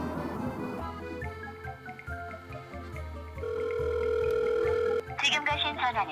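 A telephone dial tone sounds while placing a call, a steady tone lasting about a second and a half over ongoing background music.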